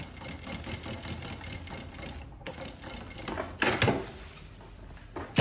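A sewing machine runs with a continuous mechanical whir and rapid needle chatter, close up and fairly loud, with a brief pause and a few handling knocks.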